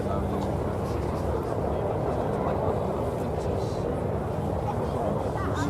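BAC Strikemaster and Jet Provost jets at the Scampton airshow produce a steady, loud broadband jet roar that fills the whole stretch without letup, with a voice likely present beneath it.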